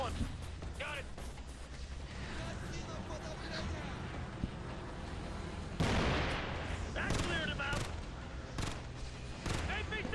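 Gunfire in the video game Ghost Recon Future Soldier on Elite difficulty, with repeated sharp shots and bursts amid ongoing battle noise, heard under someone talking.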